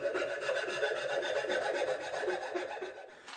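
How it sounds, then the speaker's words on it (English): A hand rasp filing down a wooden part for a motorized scaffold vehicle, rapid rhythmic scraping strokes close up and fairly loud, continuous for about three seconds with no talking. "I'll clean it up with a rasp."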